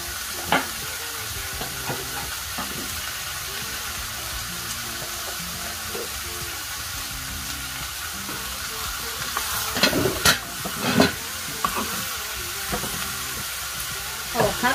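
Pumpkin sautés in a pan with coriander and black pepper, giving a steady close sizzle broken by scraping stirs, with a louder burst of clatter and stirring near the end.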